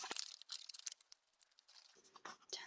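Paper for a heart box book craft being folded back into a zigzag, giving close, steady crinkling and rustling with brief crisp creases throughout, all fairly quiet.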